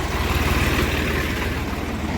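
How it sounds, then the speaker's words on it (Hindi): Idling engine of a Swaraj 855 tractor near farm fields, a steady low rumble with a rapid regular chug, loud and close throughout, with no talk over it. "ये देखिए भाइयों जबरदस्त ट्रैक्टर"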